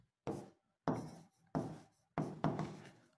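Chalk or marker strokes on a board during a reasoning class, four separate bursts of scratchy writing with short pauses between them, close and fairly loud, no voices.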